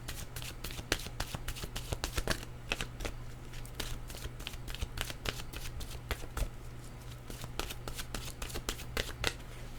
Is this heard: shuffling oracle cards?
yes